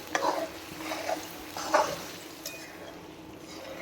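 Chopped onion frying in hot oil while being stirred for a dhaba-style paneer masala, a soft steady sizzle broken by a few sharp scraping clicks of the spoon against the pan, fairly close and quiet.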